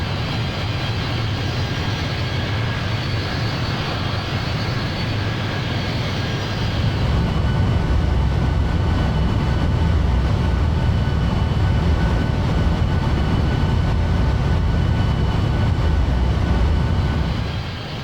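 Boeing C-17 Globemaster engines in flight in Microsoft Flight Simulator, a loud, continuous broadband roar with a steady low rumble that swells slightly partway through and holds.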